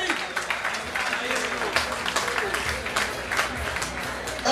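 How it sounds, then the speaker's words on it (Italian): Audience applause greets a fighter entering the ring at a Bikes and Fights combat event in Rome, steady clapping from a crowd under an announcer's amplified voice. "Ecco che arriva, un bel applauso."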